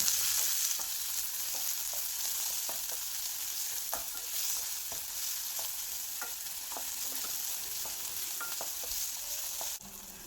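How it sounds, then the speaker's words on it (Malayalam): Crushed ginger, garlic and small tomatoes are sautéed in a pan, giving a steady close sizzle with regular utensil scrapes and taps as they are stirred, and no one speaks. "എല്ലാം കൂടി ഇട്ട് കൊടുത്തൊന്ന് വഴറ്റി കൊടുക്കാം"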